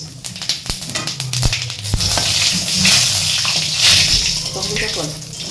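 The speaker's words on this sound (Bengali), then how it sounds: "ওই তেলের মধ্যে একটুখানি জিরে ফোড়ন দেবো, আর এরকম 2টো শুকনো লঙ্কা ফোড়ন দেবো" Cumin seeds and two dried red chilies tempering in hot oil left from frying bitter gourd, a bright crackling sizzle with scattered pops and stirring clatter, loud and close, with talk over it.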